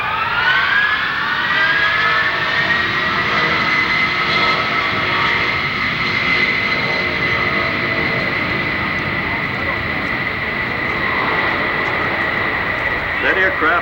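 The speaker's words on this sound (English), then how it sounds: "The airplane's flying around." A jet aircraft flying past at an airshow (Westover, 1992), its loud, steady engine roar sustained throughout with a slowly shifting whine, close and continuous.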